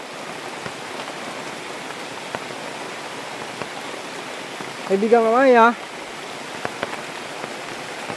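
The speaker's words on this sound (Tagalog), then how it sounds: "Malakas ang ulan." Steady broadband hiss of heavy rain continues throughout, with a brief tonal voice or call rising over it near the end.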